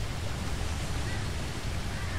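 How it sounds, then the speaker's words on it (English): A distant waterfall in a natural outdoor setting gives a steady, even broadband rush that stays unchanged for the whole moment, with no talking over it. "I can hear the waterfall in the distance."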